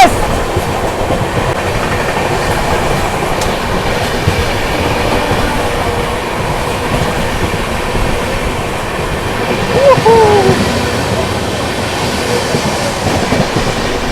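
Kolkata Rajdhani Express and Magadh Express run in parallel through fog in the NCR, giving a steady, loud rumble of rolling rail cars with a brief high wheel squeal near the end.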